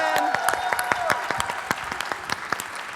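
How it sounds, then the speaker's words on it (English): A convention audience at a Magic: The Gathering championship event at PAX applauds, with a steady patter of clapping and scattered cheers rising in the hall. "Let's bring our debaters back on stage with cheering, hooting, and hollering."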